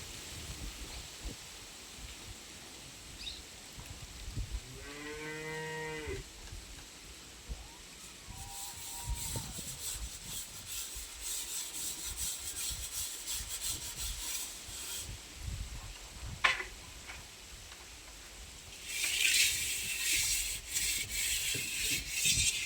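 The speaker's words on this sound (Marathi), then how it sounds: "आता राख लावून त्याचं बूड घेते मी" Steady gritty rubbing and scraping of a pot bottom being scrubbed by hand with ash, with a brief voice early on and a harsher scraping burst near the end.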